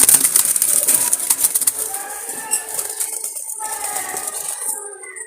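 Jalali pigeons, including females, coo softly and repeatedly at close range, with rustling and light clattering early on that fades to quieter cooing.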